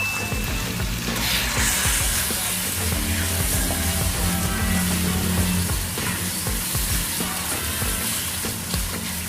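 Chicken pieces and garlic sizzle and fry steadily in a hot pan while cooking chicken sopas, a continuous loud crackle with scattered pops and some stirring throughout, no talking.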